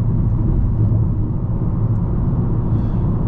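Tire noise inside a 2024 Nissan Altima 2.5-liter cabin at about 70 mph on the highway, a steady low rumble and hum that holds constant with no voices.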